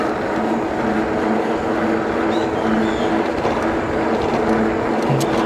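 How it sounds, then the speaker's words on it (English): Fat tire wheels of a Puckipuppy Boxer ST full-suspension e-bike roll along the road with a loud, continuous droning hum and rushing wind noise. "the wheels, just like any fat tire e-bike, the wheels are a little loud"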